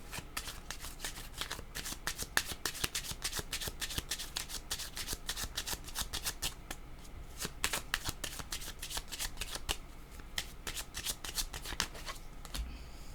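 Tarot cards are shuffled in quick, repeated riffling bursts, crisp and close, continuing steadily with brief pauses.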